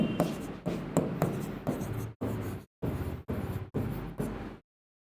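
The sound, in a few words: writing with a smart pen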